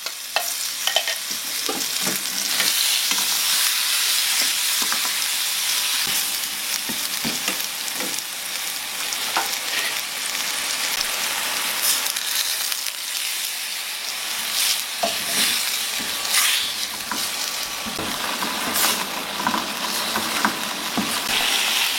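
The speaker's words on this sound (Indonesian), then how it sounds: "Sekarang kita akan goreng dulu bumbunya." Chili spice paste, blended with oil, frying in a little more oil in a pan for fish soto, with a steady close sizzle and crackle plus occasional stirring scrapes throughout, no voices.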